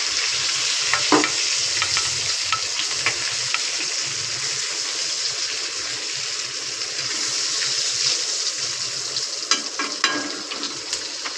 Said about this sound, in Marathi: आता याच पद्धतीत सगळे आपण हे करून घेऊया, तळून घेऊया मच्छी.